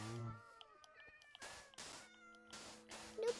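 A cat meows several times in Minecraft VR, drawn-out tonal cries in close succession, loud and clear with no talking over them.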